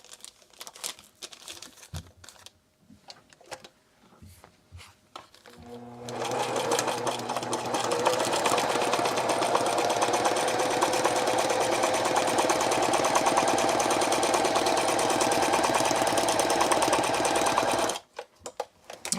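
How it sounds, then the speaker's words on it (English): A Ricoma EM1 embroidery machine stitching straight across the bottom of an in-the-hoop chip bag pouch: a few soft handling clicks, then a loud, fast, steady mechanical whirring and needle chatter that runs for about twelve seconds before stopping abruptly. "we're gonna stitch across the bottom of this,"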